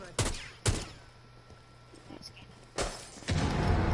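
Gunfire in the tactical shooter Rainbow Six Siege: two sharp close reports early, then a louder burst near the end with sustained rumble, separated by a quieter stretch of low game ambience.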